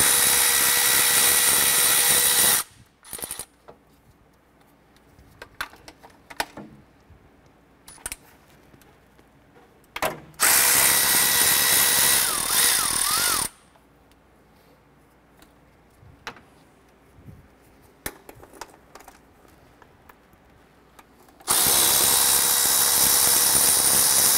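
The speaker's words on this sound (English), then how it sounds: "Let's remove the bolts for the intake. We're using our 12 millimeter socket and extension for this." Intake bolts come off a 2008-2012 Honda Accord with a 12 mm socket and extension on a power tool, in three loud buzzing whirring bursts separated by quieter stretches of small metallic clicks and handling noises.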